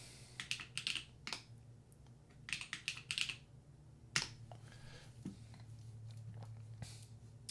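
Keystrokes on a Hebe June mechanical computer keyboard, quick bursts of crisp clacky typing with pauses between runs, close and fairly quiet over a low background hum.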